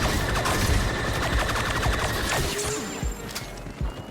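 Rapid blaster fire from Iden Versio in Star Wars Battlefront II, dense bursts of shots over loud game action and effects, continuous and close throughout.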